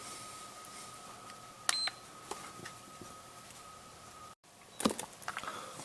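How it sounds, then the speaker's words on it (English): Sharp electronic beeps from a SkyRC iMAX B6 battery charger saving a program ring out, one near the start and a quick cluster later, over a faint steady hum and some clicks. "you hit enter and hold it, and it'll sit there and beep a couple of times"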